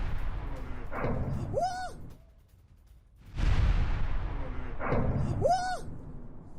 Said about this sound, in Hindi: रूस ने 3 इस्कंदर मिसाइलों से कीव पर हमला किया।